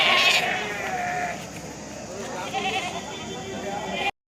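Male goats bleating at a busy rural goat and sheep market in Kadiri, with several overlapping bleats up close against constant crowd chatter and people talking throughout.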